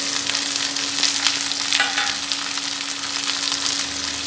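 Chopped capsicum and tomato sizzle in hot oil with fried onion and garlic for a kabli chana ghugni, giving a steady, close frying hiss over a constant low hum, with no voices.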